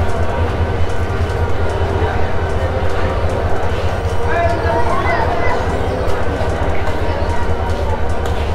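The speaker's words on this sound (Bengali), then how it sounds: "অনেক ছোট একটা ট্রেন, ট্রেনটা খুবই ছোট" A small train runs steadily through a station area with baggage wagons, a continuous low rumble with faint rattling and clatter, while a person talks over it throughout.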